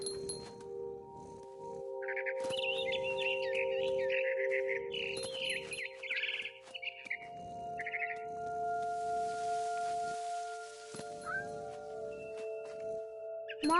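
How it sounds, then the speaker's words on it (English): Scared barn swallow chirping in the video game What Remains of Edith Finch, a run of rapid, agitated high twitters that rises and then fades over a steady tonal music background, moderately close and clear. "Then I heard chirping outside my window. It was a barn swallow going back to her nest."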